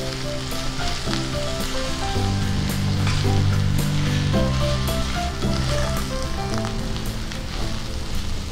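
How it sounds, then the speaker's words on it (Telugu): Broad beans frying with garlic in a pan on a low flame, a steady close sizzle and crackle throughout, with a faint musical tone running underneath and no talk. "సిమ్లో పెట్టుకొని వేయించుకోవాలి చిక్కుడుకాయని."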